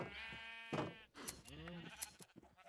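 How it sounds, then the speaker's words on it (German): Sheep in a farming video game give several wavering bleats in quick succession, fairly close and clear, with faint background clatter between calls. "Schafe, denke ich, haben wir genug."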